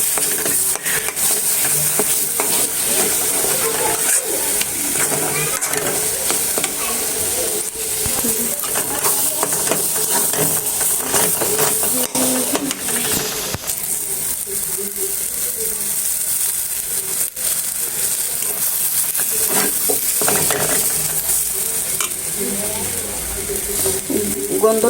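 Beef brain fries in a pan with green chilies, a constant loud sizzle broken by scraping and clinking of a stirring utensil, close-up throughout, with some faint voice underneath.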